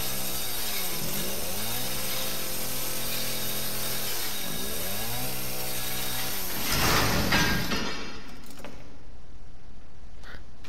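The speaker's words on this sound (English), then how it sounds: "So much for chainsaw." A chainsaw in the video game Resident Evil 7 runs loud and steady, its engine note dipping and rising in repeated surges before it cuts out abruptly near the end, leaving quieter background noise.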